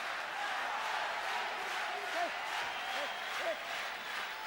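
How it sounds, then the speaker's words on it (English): Boxing arena crowd during the fourth round of Jose Ribalta versus Axel Schulz, a rolling roar of voices urging the fighter on, with occasional louder shouts rising above the steady din under a commentator's talk. "the crowd starts to urge on Axel Schulz to do something big"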